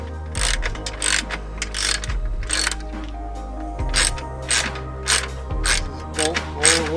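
A hand ratchet undoes bolts while a car's PCM is being removed, with repeated bursts of rapid metallic clicking up close, separated by short pauses and occasional dull clunks.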